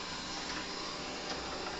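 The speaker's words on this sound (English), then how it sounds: "Here he comes. Shark vacuum cleaner." Shark vacuum cleaner runs with a constant whirring motor drone, steady and unbroken through the short stretch.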